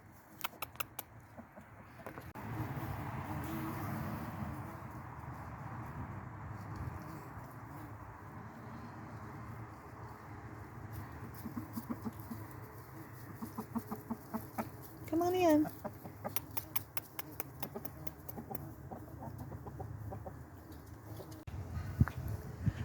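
Chickens cluck and murmur softly in a chicken pen while a person speaks briefly; scattered rustling and a short louder call partway through.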